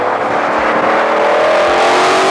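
A Ford Mustang engine revs hard and close, a loud continuous roar that climbs steadily in pitch with no voices over it.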